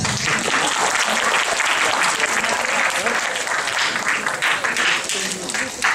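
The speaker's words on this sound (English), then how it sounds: "Clap for yourself." Loud, sustained applause from a large audience, dense clapping that fills the space and fades slightly at the end.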